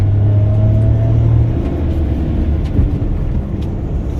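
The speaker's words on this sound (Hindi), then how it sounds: "मैं जैसे ही एक्सीलेटर को प्रेस करता हूँ अपनी कार में कैसा बूस्ट देखने मिल जाता है।" A Suzuki Alto 800 car accelerating in second gear, with a steady loud engine drone and low rumble that shifts slightly in pitch as it pulls, heard close without talking.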